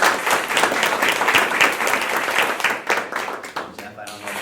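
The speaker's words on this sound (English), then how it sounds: "So Jeff, I would like to give you a big round of applause." A room of people at a school board of education meeting give a round of applause, dense steady clapping that thins out and stops near the end, with some voices mixed in.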